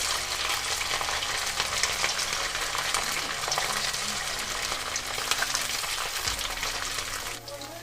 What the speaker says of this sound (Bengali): এখানে আমি এই চিকেনগুলোকে খুব ভালো করে ভেজে নেব মিডিয়াম ফ্লেমে